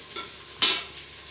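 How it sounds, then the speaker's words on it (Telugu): Mint and tomatoes stirred into hot oil in a pressure cooker, a soft background sizzle with one brief louder scrape-and-hiss burst from stirring partway through. "కొద్దిగా ఆయిల్ వేసుకొని పుదీనా, టమోటాలు వేసి వేయించుకుంటున్నాము"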